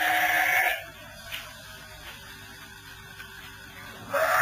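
Wonosobo sheep, a large-bodied merino and thin-tailed cross, bleat loudly near the start and again at the end, with a quieter farm background in between.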